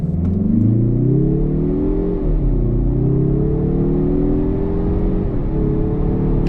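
A 2024 Mazda3 Turbo AWD hatchback pulling hard from a standstill to 60 mph, its engine droning loud and steady from inside as pitch climbs, drops briefly at each gear change, then rises again.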